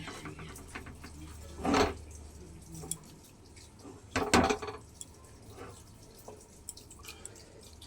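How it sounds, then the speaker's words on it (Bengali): Water splashes and drips while a mixer-grinder jar is rinsed at a kitchen sink, with two brief louder splashes against a quieter background of trickling and dripping. "মিক্সিটা ধুয়ে একটু জল দিয়ে দিলাম"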